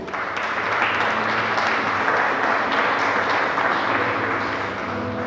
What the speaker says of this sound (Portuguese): Você pode aplaudir a Deus por isso, irmão?